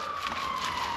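Distant emergency vehicle siren heard from a workshop in the afternoon: a faint, steady wailing tone sliding slightly in pitch over a quiet noisy background, no talk.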